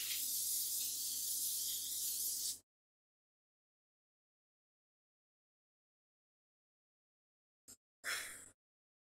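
Hair spray hisses from an aerosol can in one long continuous burst, then after a pause a very short puff and a final brief spray, each close and bright.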